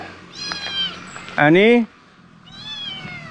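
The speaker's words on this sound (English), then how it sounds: "Look at this, a kitten." A kitten meows repeatedly, high and thin, with one loud, close, wavering cry in the middle and softer mews around it, while a person speaks over parts of it.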